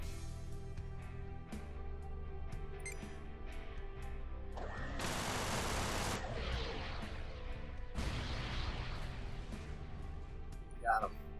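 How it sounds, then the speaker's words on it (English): A Gatling gun and missiles fire in the space-combat game Everspace, heard as rapid clicking gunfire with two louder, broad bursts from missile launches and impacts, all set against steady game sound. "now we switch back to the Gatling. Light them up. Use missiles on the next targets."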